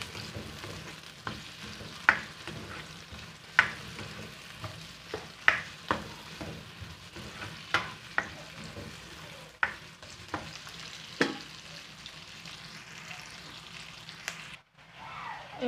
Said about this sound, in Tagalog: nilagay ko na yung beef na minarinate ko after 30 minutes. Ayan, gigisa natin.